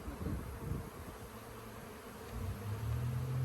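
Honey bees swarm around an open hive during a split, a continuous close buzzing drone with shifting pitch that swells toward the end, no voices present.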